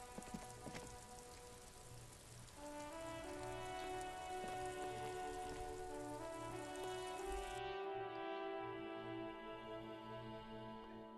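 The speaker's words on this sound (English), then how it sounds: "Way up there, this rain will not let up anytime soon." Soft rain patters on surfaces in the video game Disco Elysium, a quiet, continuous spatter under sustained musical tones that shift and swell.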